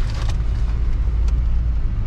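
Car driving along city roads in Jaipur, India, a steady close interior rumble of engine and tyres with low broadband road noise throughout, no talk.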